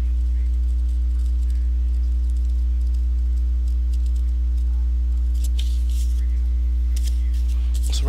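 Scissors trimming foam for a Dragonscion dagger prop build: a few sharp, close snips and clicks over a steady electrical hum, with no talking.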